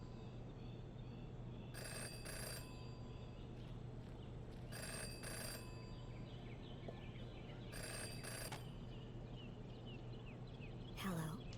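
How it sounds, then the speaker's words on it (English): A telephone rings in a detective video game, three evenly spaced bursts of electronic ringing over a low steady background hum, with a short extra chirp near the end. "In her short time as a detective, Jenny had learned never to ignore a ringing phone."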